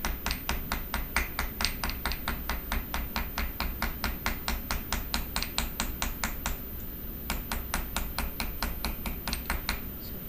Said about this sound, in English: So first I'm just going to make the fold sharp, by hammering straight on the fold